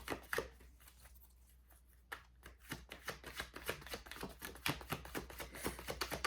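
Tarot cards are shuffled and drawn in a quiet stretch of soft handling, then a quick run of close, crisp card flicks and taps.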